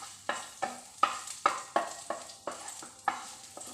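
Curry leaves and crushed garlic fry in a spoonful of hot oil, with about nine sharp stirring scrapes landing in a steady rhythm over a soft sizzle, all close and alone without any voices.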